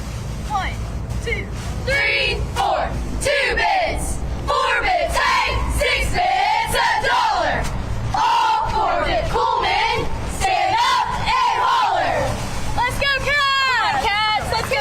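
Coleman cheerleaders chanting and cheering at a football game day, loud rhythmic shouted chants from a group of girls over crowd noise, continuous and close, ending in higher excited yells.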